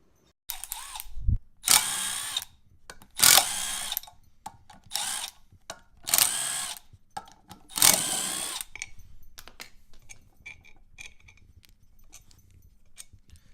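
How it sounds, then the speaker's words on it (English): A power drill whirs in repeated loud bursts of a second or so each, boring out a hole in a brake rotor, with pauses between, then quieter mechanical clicks and rattles. "So this is the hole we're going to be drilling out right here."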